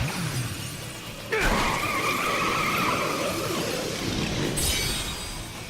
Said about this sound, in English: And turns into a motorcycle for Snow to ride.